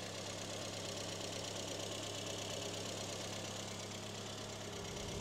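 A 1972 Renault 12 Break engine idles steadily, a constant low rumble with a faint knocking rhythm, close by and unbroken throughout.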